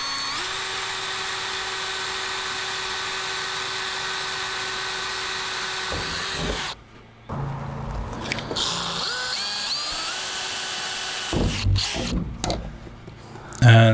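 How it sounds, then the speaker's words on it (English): A power drill whines steadily while drilling pilot holes in a Nissan NV400 van, running in long continuous bursts that stop briefly and then restart, close and fairly loud. "So drilled the pilot holes"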